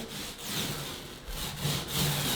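Continuous rubbing and scraping of dried paint being worked off a surface during a living room makeover, close and steady, with rhythmic back-and-forth strokes and no talk.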